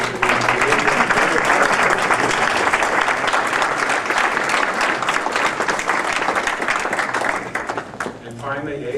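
Loud, sustained applause from an audience at a dance celebration fills the space, dense clapping holding steady before tapering off near the end, with a voice faintly emerging.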